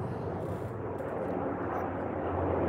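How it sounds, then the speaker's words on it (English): A helicopter passes overhead, its broad, steady engine and rotor rumble filling the whole moment and swelling slightly louder toward the end, with no talking over it. "And there goes the helicopter."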